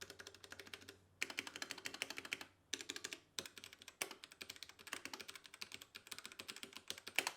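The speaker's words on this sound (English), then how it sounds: "Now that sound test was with brown switches." Typing on a budget mechanical keyboard with brown switches and modded stabilizers, close up, as fast, clattering bursts of keystrokes separated by brief pauses, with no voices.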